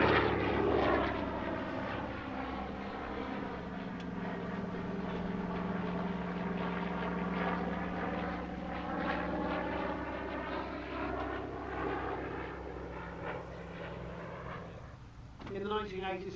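A Yak aircraft flying a display at the Little Gransden Airshow 2021: a steady propeller engine drone that sweeps in pitch as it passes overhead, heard from a distance and fading near the end.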